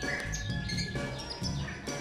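Songbird chirping near the listener in quick repeated tweets and trills, bright and lively, continuing throughout without pause.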